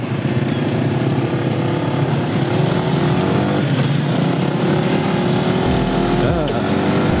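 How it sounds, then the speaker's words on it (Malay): Three motorcycles ride together along a road in Malaysia, engines droning steadily and loudly throughout with wind rush, one rising rev swelling near the end as they cruise close by. "setakat ni perjalanan kita orang 3 buah motor"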